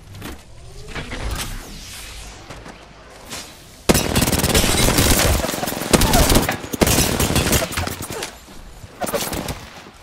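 Loud, rapid gunfire from an Apex Legends match crackles in dense bursts, with a quieter stretch of scattered shots giving way to heavy sustained fire mixed with game effects, and a voice faintly under it.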